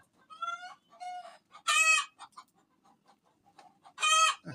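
Chickens cluck in a series of short, nasal calls close by, broken by two loud, drawn-out squawking bursts like a crowing rooster, with quiet gaps between and no talking.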